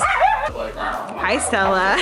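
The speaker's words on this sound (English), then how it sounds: "there were about a bajillion dogs there" Several dogs at a busy gathering yip and whimper in short bursts, close by and mixed under steady conversation from people nearby.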